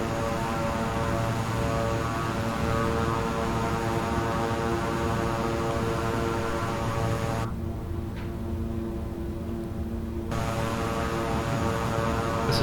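A King Air 350i twin turboprop taxiing in Microsoft Flight Simulator gives a steady, continuous engine drone with whining propeller tones, loud and unbroken throughout, dipping briefly in the upper range midway before resuming.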